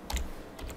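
Keys clack on a computer keyboard while HTML code is typed, a few quiet, close taps in a short burst with no talk.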